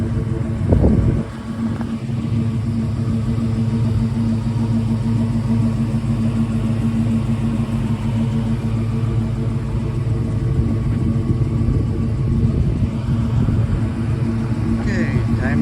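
A 1963 Ford Falcon Sprint engine runs with a steady, loud low rumble for about fifteen seconds, holding an even idle with a brief rise near the start and faint background noise throughout.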